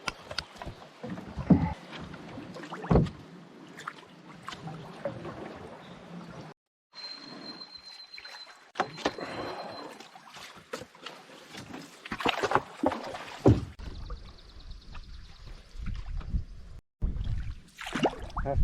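Canoe lined upstream against a strong spring current on Algonquin's Nipissing River, with rushing water, scraping and splashing of the hull close by, broken by brief pauses and wind buffeting.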